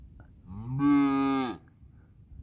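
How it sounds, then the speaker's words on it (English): A cow on a street in east Kansas gives a single loud, drawn-out moo lasting about a second, rising in pitch and then cutting off, with quiet outdoor background before and after. "Go find your mama, moo cow."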